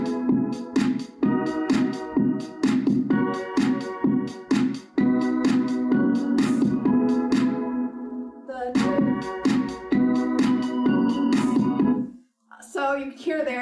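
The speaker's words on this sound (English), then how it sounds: "A pluck is a type of synth that sounds like a guitar when you pluck it." Synth plucks play a higher melody in a Vocaloid song, short bright notes in a quick repeating rhythm, loud and up front, stopping briefly before a final burst.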